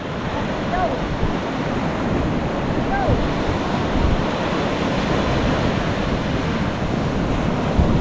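Loud, continuous ocean surf washing and rumbling up close, with wind buffeting the microphone throughout.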